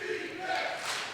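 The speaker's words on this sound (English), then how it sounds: "getting a crowd chant here" A crowd at a wrestling event in a Boys and Girls Club in Carbondale chants together, a short burst of many voices rising and rallying behind a team.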